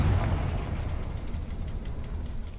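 A Confringo spell explosion in Hogwarts Legacy lands as a heavy, rumbling blast that rolls on as a dense, low roar through the short moment, loud and close with no voices.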